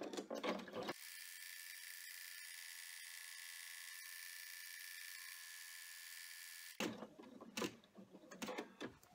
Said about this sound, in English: now we have to take it back to the machine and run the finished stitching that's going to hold